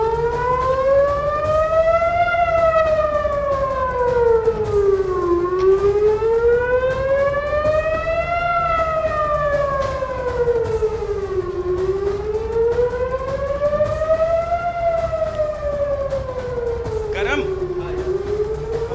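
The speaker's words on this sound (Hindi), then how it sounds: "देखिए ये सायरन मिसाइल से पहले बजता है" A loud air raid siren warning of incoming missiles wails continuously, rising and falling in slow, repeated cycles, during the Israel–Palestine war.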